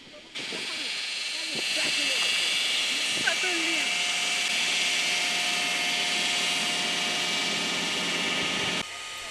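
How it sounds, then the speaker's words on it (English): A steam locomotive at the Strasburg Railroad in eastern Pennsylvania, parked outside the shops, lets out a loud continuous hiss of steam that swells after a moment and holds steady for several seconds before cutting off. "The Strasburg Railroad is well known for their operation of steam locomotives"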